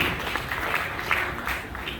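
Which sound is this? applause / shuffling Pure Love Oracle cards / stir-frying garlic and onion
applause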